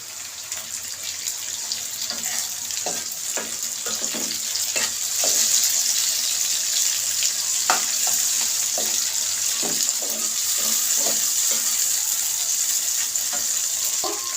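Two chopped tomatoes going into a pan of frying pangash fish masala, a loud, continuous wet sizzle with repeated stirring clicks and scrapes throughout.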